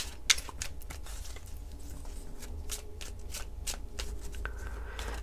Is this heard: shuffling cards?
yes